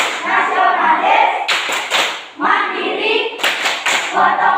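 A school class performs a rhythmic PPK clap chant, bursts of sharp group clapping alternating with chanted voices in a lively, repeating pattern.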